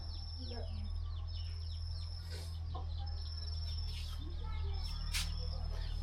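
Chickens cluck in short, faint bursts somewhere in the background, with chirping birds and a constant low hum over the whole stretch.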